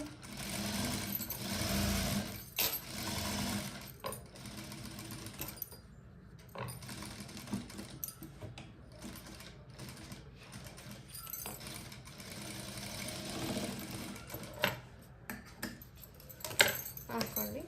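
A sewing machine stitches an Aari work blouse, running in repeated bursts of close, steady whirring with short pauses, alongside light handling clatter.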